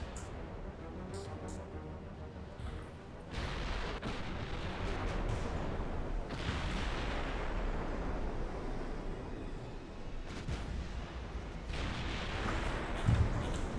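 Warship guns fire in the naval battle game Ultimate Admiral Dreadnoughts, with heavy booming salvos and long rumbling blasts that overlap into a continuous roar, loud throughout.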